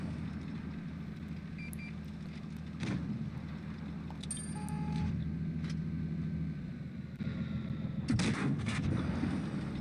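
Tank gun fire in World of Tanks Blitz: a steady engine hum with a few game beeps and clicks, then a sharp cannon blast near the end, no talk.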